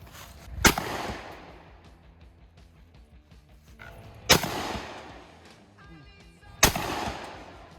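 A TR Imports Silver Eagle Inertia One shotgun fires three loud, sharp blasts outdoors, spaced a few seconds apart, each with a short ringing decay and quiet background between shots.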